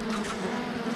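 Honeybees buzzing at the hive, a dense continuous drone of many insects close by, steady and fairly loud with no voices.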